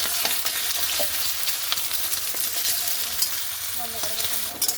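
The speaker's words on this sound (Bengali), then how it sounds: "এই যে দেখো এইভাবে ডিমগুলোকে ভুজিয়া করছি" Eggs for chowmein sizzle steadily in a hot pan while being scrambled and stirred, with a loud, continuous close-up frying hiss broken by occasional scrapes of the utensil. No one talks.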